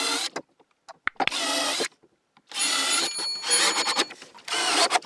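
Power drill pre-drilling holes in wood and then driving screws, heard as several loud bursts of whirring separated by short pauses, close by with no talking.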